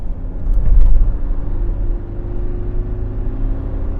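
A 2024 Mitsubishi Pajero Sport Elite Edition rounds a series of curves, its engine drone and road rumble heard from inside the cabin as a steady, loud low hum with slight swells and no talking.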